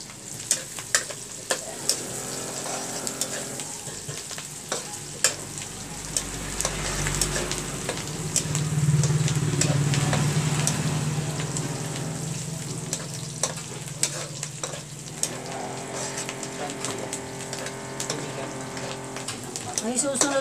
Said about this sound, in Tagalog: Lutuin lang natin mabuti yung bawang sibuyas.